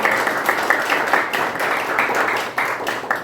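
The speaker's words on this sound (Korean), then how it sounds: "우리 박수 한번 하시죠" A church congregation applauds at a gathering, producing a loud, dense patter of many hands clapping that continues steadily without speech.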